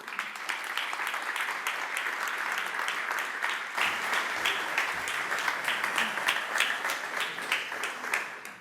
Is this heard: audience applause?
yes